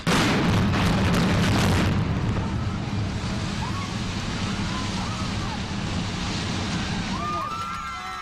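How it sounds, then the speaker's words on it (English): Controlled demolition of high-rise flats in Ballymun, Dublin: a loud, sustained low rumble with a roaring blast at the start, fading into a long rolling wash of noise, like a distant large explosion. "Part of the regeneration saw a series of controlled explosions."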